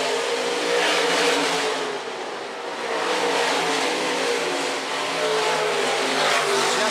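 IMCA stock cars race on a dirt oval at Phillips County Raceway, their engines roaring loud and steady as a pack for the whole stretch, with a brief dip in the middle before the noise swells again.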